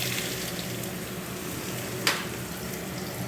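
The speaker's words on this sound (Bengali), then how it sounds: "এবার পটলটা আর আলুটা ভেজে নেবো" Pointed gourd and potato pieces fry in hot oil with black cumin, giving a steady, close, dense sizzle that holds throughout, broken once by a brief sharper crackle partway through.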